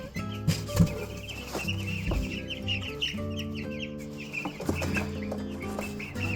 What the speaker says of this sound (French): On sort des poussins.